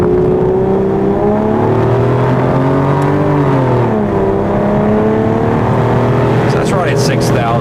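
A Midnight Gray Aston Martin DBS engine revs hard, its rising and falling harmonics climbing toward the 6,600 rpm limiter and holding near peak, loud and close, with people talking over it.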